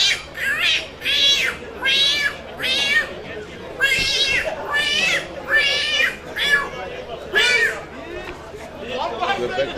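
A man imitates a cat with a rapid series of loud, nasal meows in a village setting, roughly a dozen repeated calls at an even rhythm with faint background noise.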